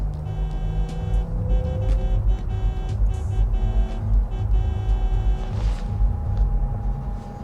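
A car in Cyberpunk 2077 gives a steady low engine drone and road rumble throughout a ride, with faint higher electronic tones and a brief whoosh layered over it.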